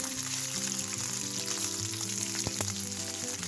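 Ginger garlic paste fries in hot oil, giving a continuous close sizzle with small crackles and the odd stir, loud and steady throughout with no talking.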